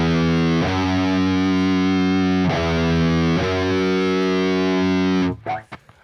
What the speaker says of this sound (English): Next up, we got our major second, which sounds like this.